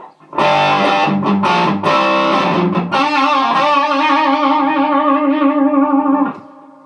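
Distorted electric guitar played loud through a Jet City JCA2112RC 20-watt 1x12 combo amp with reverb, a few strummed chords then a sustained ringing chord that fades out.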